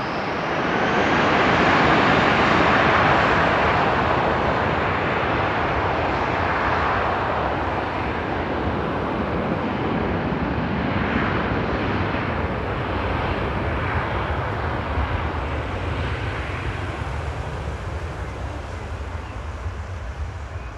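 DHL cargo aircraft at Frankfurt Airport, a loud sustained jet engine roar that swells early and then holds steady with a broad rumble, gradually easing off toward the end with no talk.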